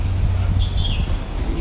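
Steady low rumble of wind buffeting outdoors in Ling Nan Garden, Lai Chi Kok Park, continuous throughout, with a faint high chirp partway through.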